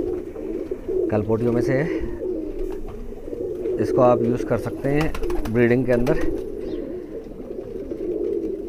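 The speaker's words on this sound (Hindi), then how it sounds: "और ये अपना एक काला जाक कबूतर" A black pigeon coos close by in several low, rolling bursts while someone talks over it.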